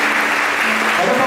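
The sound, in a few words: audience applauding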